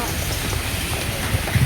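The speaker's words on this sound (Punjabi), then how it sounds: "ਬਹੁਤ ਜ਼ਿਆਦਾ ਮੀਂਹ ਪੈ ਰਿਹਾ ਜੀ" Heavy rain falls in a village in Bathinda district, Punjab, a steady dense patter on surfaces close by, with a slightly louder thump near the end.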